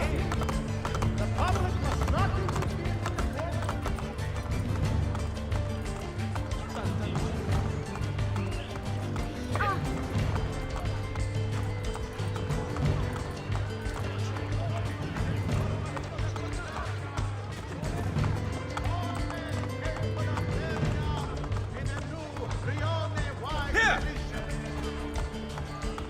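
A horse galloping in Assassin's Creed Brotherhood, the dark-coloured mount's rapid hoofbeats drumming steadily and continuously for the whole stretch over a dense game soundscape, with some voices faintly present.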